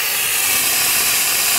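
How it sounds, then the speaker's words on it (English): A VX5000 steamer lets out a strong, steady hiss of steam, a loud continuous broadband rush lasting the whole moment with no talking over it. "when you turn it on, it's pretty powerful. But I press the more steam"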